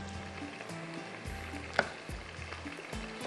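Chicken pieces frying and sizzling in a pan for a cumin (zeera) chicken dish, a steady low crackle with a few soft stirring clunks and one sharp tick, close by with no talking.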